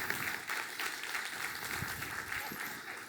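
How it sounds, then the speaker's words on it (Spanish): Church congregation applauding during a sermon, a sustained patter of many hands clapping in a reverberant hall with a few cheers and shouts mixed in, moderately loud throughout. "dale ese aplauso al Señor"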